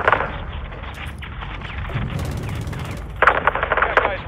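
Gunfire from the video game Call of Duty: Modern Warfare 2 plays as a continuous busy battle mix, with rattling automatic bursts and a louder volley near the end, under game noise and possible voices.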